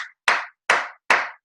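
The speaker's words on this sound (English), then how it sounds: "Give yourself a round of applause" Three sharp, close claps ring out one by one at an even, slow pace during an online sales training session, each with a short decay and silence between.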